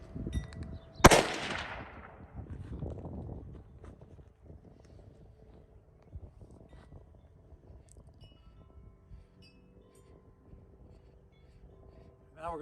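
A .338-06 rifle fitted with a muzzle brake and firing handloaded rounds outdoors lets off one loud, sharp report that rolls away in a long echoing tail. Faint wind noise follows, and a brief jolt comes at the very end.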